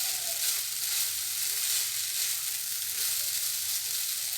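Sago pulao sizzles in a pan as it is stirred, giving a continuous hissing fry with a soft, even texture and no distinct knocks. Nobody speaks.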